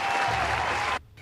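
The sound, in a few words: audience applause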